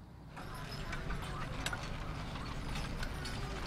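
Draft horses aged four and five, working a produce field at a draft animal power event, clip-clop steadily with hooves and rattling mechanical gear, a continuous busy texture at moderate distance.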